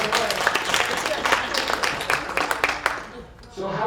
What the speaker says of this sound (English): Let's clap for Miss Ames.